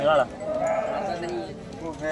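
Goats bleat at a weekly goat market in Mullanpur Dakha, with loud wavering cries close by that rise and fall amid people talking over them.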